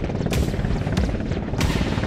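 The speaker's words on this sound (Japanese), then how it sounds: "海上自衛隊の掃海輸送ヘリコプター MCH-101 が着艦します。" A Japan Maritime Self-Defense Force MCH-101 minesweeping transport helicopter approaches to land on a ship's deck during the 2022 International Fleet Review, its loud, dense rotor and turbine roar steady and broadband with rhythmic blade swells throughout.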